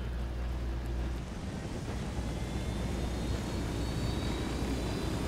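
A helicopter in a video game drones with a steady, loud rotor and engine roar that fills the whole stretch without a break and with no voices over it.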